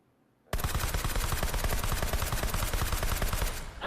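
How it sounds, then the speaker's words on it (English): A sustained burst of automatic fire from a suppressed MP5K emptying a 30-round magazine in a VR shooting game, loud and continuous after a brief quiet start, with no voices. "So let's just fire 1."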